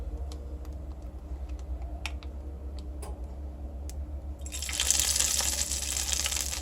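Quiet crackling and ticking, then a sudden loud hissing sizzle as hot butter with red pepper powder is poured onto chickpea chicken soup and keeps sputtering steadily.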